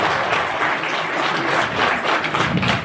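Applause from the gathered audience at a district court retirement farewell ceremony, a dense continuous clapping that holds steady and fairly loud throughout, with no speech over it.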